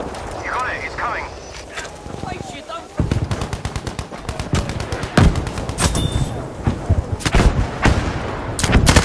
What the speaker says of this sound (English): Requesting an artillery barge at this location.